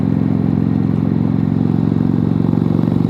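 A twin-cylinder motorcycle engine runs loud and close under throttle, a continuous throbbing drone holding steady for a few seconds without talk.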